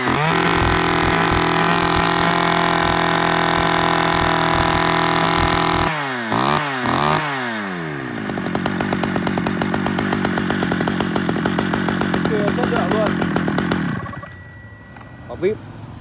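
A Japanese-import chainsaw, with an Echo model among the lot, starts and runs loudly at close range, first holding a steady idle, then revving up and down in several sharp bursts before settling into a rough high drone that cuts off near the end, with a voice talking over it.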